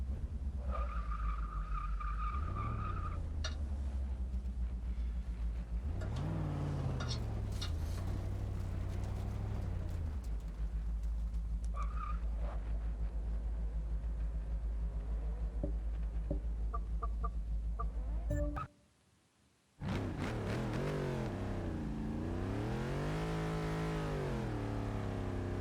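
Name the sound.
car tyres skidding while drivers warm them up, Forza Motorsport 6 video game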